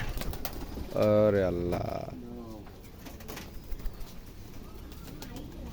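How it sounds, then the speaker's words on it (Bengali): Rajshahi Giribaz pigeons, colour-matched hand-flying birds kept in a loft, give a loud, close throaty coo early on, followed by softer cooing and faint rustling while a man briefly exclaims. "এখানে বেশ বেশ কালার ম্যাচিং হাত বাজির কবুতর আছে।"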